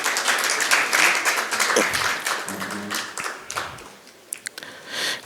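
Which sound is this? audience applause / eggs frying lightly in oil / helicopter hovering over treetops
audience applause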